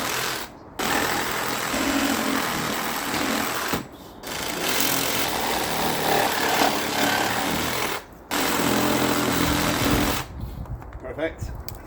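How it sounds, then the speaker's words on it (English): A sawzall reciprocating saw trims a post in a yard, running loud and close in three long bursts separated by brief pauses, its buzzing drone steady throughout each cut. "So now a little bit of delicate sawzall work."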